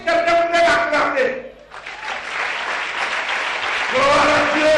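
A church congregation breaks into applause during a sermon, a dense, steady wash of clapping that swells after a brief spoken opening and carries on loudly to the end, with a voice rising again over it near the close.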